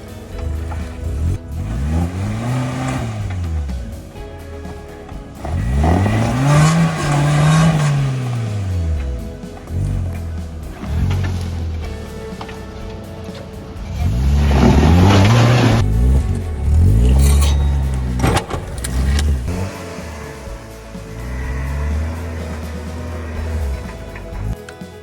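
A Suzuki Jimny engine revs hard and repeatedly while crawling off-road over rocks, loud and close, rising and falling in long surging sweeps with brief easing between pushes.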